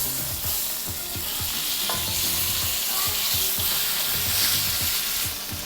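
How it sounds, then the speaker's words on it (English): Pepper steak sears in a hot pan with a loud, continuous sizzle and crackle, and bursts of stirring or scraping of the pan recur throughout. "Let all those juices flow right into that with that nice sear."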